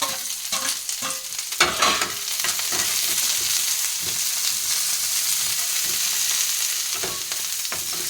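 Curry leaves and tomato frying in a pan for a healthy chutney, a bright continuous sizzle with a few sharp stirring scrapes and spatters near the start, then a steady hiss.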